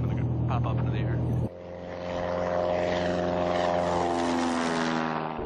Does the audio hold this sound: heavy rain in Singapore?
no